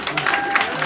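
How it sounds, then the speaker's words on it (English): Comedy club audience in Baltimore clapping briefly during a stand-up set, a short burst of scattered applause, moderately loud and close. "Clap if you are for spanking children."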